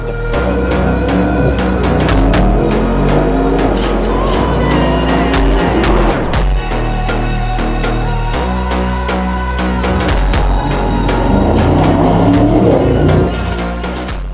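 A Mercedes SL63 convertible sports car drives with a loud, close engine that revs and shifts over a steady road roar for the whole stretch.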